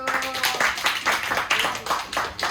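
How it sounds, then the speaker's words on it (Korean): A small audience claps at a high school project presentation, with distinct hand claps landing in a fairly steady, close rhythm over a couple of seconds rather than a dense roar. "네, 박수."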